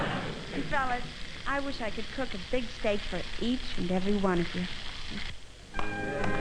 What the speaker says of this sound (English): That's the sound of a steak sizzling.